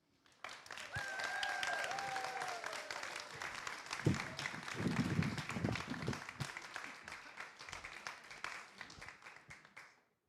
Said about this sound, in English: can you please join me in giving Elizabeth Winkler a round of applause?